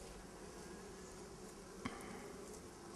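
Soft, continuous buzzing of honey bees, worker bees and drones, hums steadily in the background, faint and even, with one small tap partway through.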